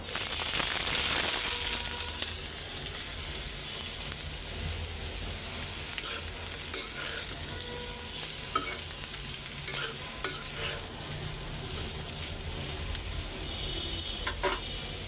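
Bitter gourd with plenty of chopped onion and green chilli goes into hot oil in a home kitchen, giving a bright steady sizzle with frequent close scraping stirs and occasional clicks, with no one talking.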